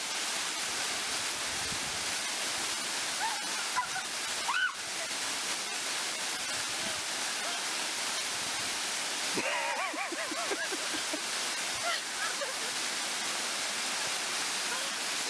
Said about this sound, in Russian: Ух, водопад, водопадушка